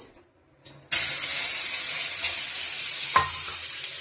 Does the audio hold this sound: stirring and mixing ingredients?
yes